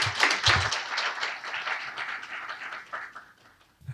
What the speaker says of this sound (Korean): 최용옥 교수님을 뜨거운 박수로 환영해 주시기 바랍니다